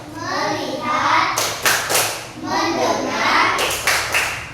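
A class of primary-school children claps a rhythmic focus clap, with bursts of sharp, close claps in short patterns between stretches of chanting voices.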